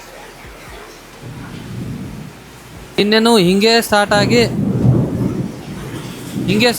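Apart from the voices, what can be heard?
thunderstorm with heavy rain and wind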